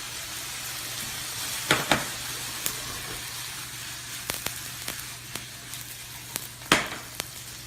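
A pan of brunch food sizzles steadily on the stove, a soft continuous frying hiss broken by scattered pops and clinks of a utensil, with no talking.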